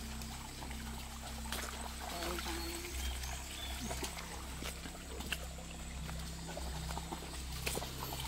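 Water in a small stream flows and trickles steadily in an outdoor spot, a soft, continuous babble with occasional faint splashes.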